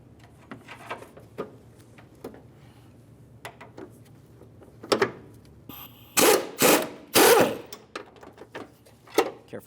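Power tool tightening the upper control arm bolts on a 2002–2009 Chevrolet Trailblazer, heard as three loud close bursts near the end, after scattered quieter clicks and clanks of work on the suspension.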